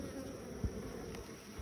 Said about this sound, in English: they are actually trying to walk back up into the hive